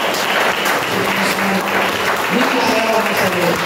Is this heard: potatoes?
no